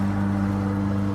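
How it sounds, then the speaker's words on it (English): A lawnmower cuts grass in the background, giving a steady, unbroken engine drone with a constant low hum, mid-distance and fairly loud. "Sorry if you hear the lawnmower in the background."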